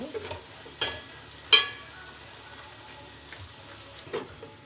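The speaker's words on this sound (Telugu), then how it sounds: "కాలీఫ్లవర్ బంగాళదుంప అనేది యాడ్ చేసుకొని బాగా ఫ్రై అవ్వాలి" Cauliflower and potato frying in a pan for a curry, a faint steady sizzle with a few sharp spatula clicks against the pan, quiet and close with no talk.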